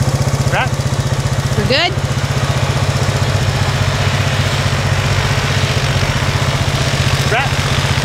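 A four-wheeler idles close by on a snowy frozen lake during ice fishing, its low pulsing putter running steadily throughout while people talk briefly over it.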